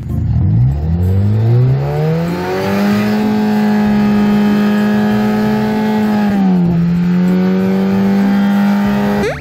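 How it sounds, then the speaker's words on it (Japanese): A high-mileage Honda Accord's engine revs up loudly through its exhaust, holds a steady drone, dips briefly, then climbs back to a sustained roar. "マフラーの音を聞いてみます"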